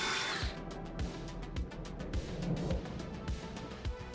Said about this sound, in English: Drilling with one hand and holding a camera in the other gets more difficult as the drill bits get bigger.